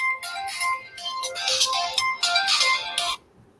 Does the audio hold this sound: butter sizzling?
no